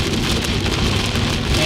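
Heavy rain pours during a thunderstorm in Indiana, a dense, constant hiss of drops drumming on surfaces, loud and close throughout without any break.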